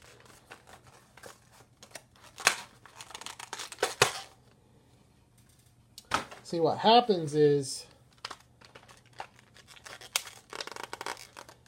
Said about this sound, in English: the way these are packaged, the paper encapsulates the inner molding. So you gotta tear it all off.